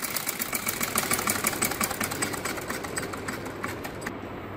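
A sewing machine runs steadily, stitching a fabric strip onto a poncha (trouser cuff) with a fast, even mechanical whir and rapid needle pulses throughout, close up with no talking.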